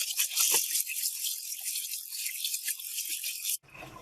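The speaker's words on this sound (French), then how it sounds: "Je le rince plutôt à l'eau froide." Cold water runs steadily from a tap over dyed cotton embroidery canvas as it is rinsed, a close, continuous hiss and splash with small rattles, cutting off sharply near the end.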